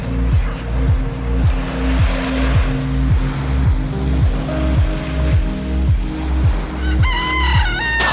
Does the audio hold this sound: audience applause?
no